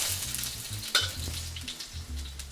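Chili sizzling in hot oil in a pan while cooking chaya, a steady crackling fry with a few sharper pops and light stirring scrapes, close and moderately loud without speech.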